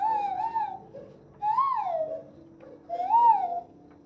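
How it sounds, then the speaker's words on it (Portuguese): Three rising-and-falling whistled calls, evenly spaced and fairly loud, like a monkey-call whistle blown alone with short pauses between. "É um apito que a gente usa, chama um apito de macaco"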